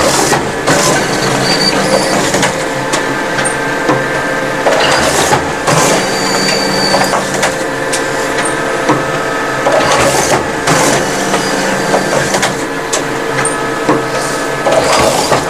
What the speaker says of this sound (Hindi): अब यहाँ पे देखेंगे आप, प्रिंट निकल रही है।